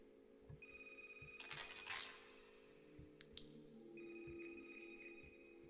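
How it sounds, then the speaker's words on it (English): A telephone rings inside the game Budget Backrooms, with quiet repeated bell trills, a steady electronic tone and a few faint clinks beneath, alone and without speech. "Why is their phone ringing?"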